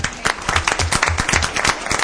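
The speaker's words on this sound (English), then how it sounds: "I'd ask you to join in a round of applause for all of them one more time" Applause from the audience at an El Paso city council meeting honoring 25- and 30-year employees, a short burst of dense, steady clapping from many hands in a large chamber with no talking.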